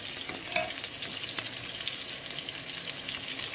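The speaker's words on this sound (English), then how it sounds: "If you want to see our hamburgers cooking, here they are" Hamburgers frying in a pan for a crispy finish, a steady, close, dense sizzle and crackle running unbroken with no voices.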